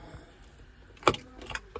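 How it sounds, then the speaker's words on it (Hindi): Car keys set down inside a Chevrolet Cruze, a couple of brief metallic jangles close by in a quiet car interior. "ये रखी हमारी चाबी"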